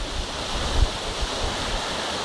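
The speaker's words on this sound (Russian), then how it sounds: "Здесь стекаются два горных потока, водные потока" Two mountain streams meet in a stone canyon in Bulgaria, giving a steady broadband rush of flowing water with low rumbling and a few soft thumps, no voices.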